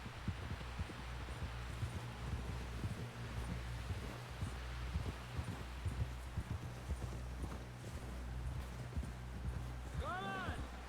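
Horse hooves clip-clopping steadily in Red Dead Redemption 2, a continuous rhythmic trot mixed under constant game ambience and low hum, with a brief tonal sweep near the end.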